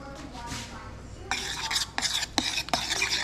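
A spoon stirs grated pecorino into a pan, giving a run of bright scraping, clinking strokes that start abruptly and repeat in quick bursts close by, with faint talk just before.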